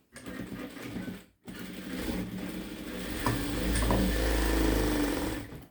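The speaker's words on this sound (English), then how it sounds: "take all 3 pieces together, fold it in half, and sew." A sewing machine stitches through three folded layers of fabric for a bow, running steadily and close for several seconds after a brief pause, with a mechanical whirr and light ticking and no voices.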